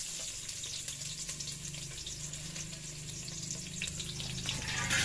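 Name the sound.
onion frying and sizzling in oil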